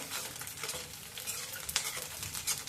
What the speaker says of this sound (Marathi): तळतळ आवाज यायला लागलाय